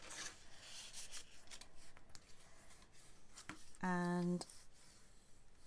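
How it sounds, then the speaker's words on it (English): A hand tool burnishes stiff card in soft, faint rubbing strokes while a person talks quietly, with a brief tonal beep partway through. "So we need to burnish all of this"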